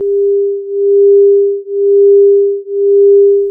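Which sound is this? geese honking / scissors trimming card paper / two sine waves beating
two sine waves beating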